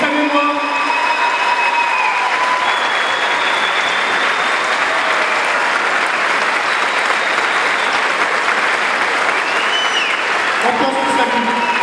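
A standing crowd gives sustained, dense applause in tribute to a 15-year-old boy at a New Year's Eve night event, loud and continuous throughout, with faint whistles and voices.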